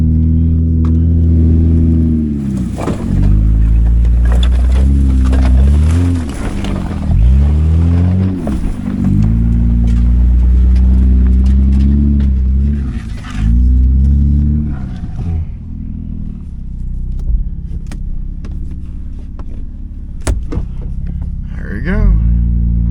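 A 1997 Lexus LX450 with the 1FZ-FE engine drives around a wrecking yard. Its engine drones and rises and falls through several revs, loud and close for a long stretch, and someone talks over it.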